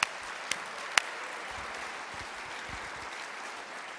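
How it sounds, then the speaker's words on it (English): Steady applause from an audience at a high school district Students of the Month ceremony, even and moderately distant, with a couple of sharp louder claps near the start. "let's have another round of applause for these amazing students"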